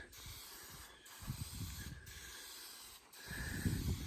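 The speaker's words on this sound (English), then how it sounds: "how you want to spray it is you just want to take it and just kind of hold it out like this" A spray can hisses onto camo fabric in three steady bursts of about a second each, separated by short pauses, close and soft with no talk.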